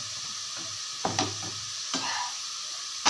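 Onions sautéing in a pan for a quick side dish, a steady sizzle with a few sharp scraping stirs of a spoon against the pan, close and alone with no voices.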